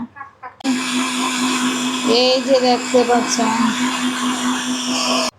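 A blender whirs loudly and steadily after a brief start, its motor hum holding for several seconds while a person talks briefly over it.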